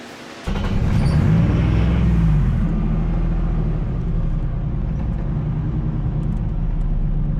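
A boosted, engine-swapped Nissan S15 pulls hard under load. A loud engine roar cuts in abruptly and rises in pitch for a couple of seconds, then settles into a heavy, steady rumble close by.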